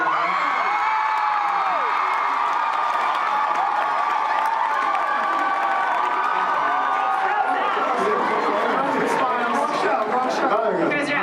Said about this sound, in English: Did you hear the screams?